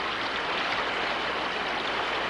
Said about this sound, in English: the sound of rushing water